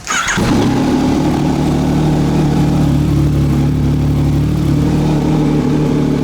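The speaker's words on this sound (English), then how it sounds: "Next step is start the engine and let it idle." A Yamaha MT-09 motorcycle fires up with a brief cranking burst, then settles into a loud, steady idle close by, its even rumble running without a break indoors with the bay door open.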